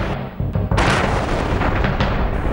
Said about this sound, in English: thuds of explosion.